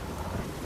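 A brief, loud, broadband rumble of thunder with rain from a storm in the video game The Witcher 3, steady for under a second.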